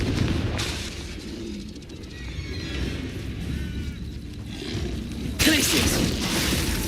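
A Confringo fire spell blasts in Hogwarts Legacy, with booming explosive bursts over a steady roaring game backdrop and a sharp, bright burst near the end. A voice speaks briefly.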